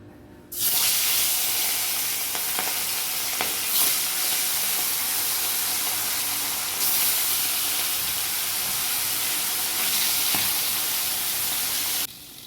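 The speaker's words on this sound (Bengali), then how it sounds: "তেলটাও গরম হয়ে গেছে, এবার মাছগুলো ছেড়ে দেবো।" Hilsa fish rubbed with turmeric and salt sizzle in hot oil in a wok, a loud, steady frying hiss that starts abruptly and runs unbroken before cutting off.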